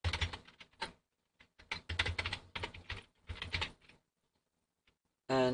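Quick bursts of typing on a sensitive computer keyboard, fairly close, with a pause near the end and no talking.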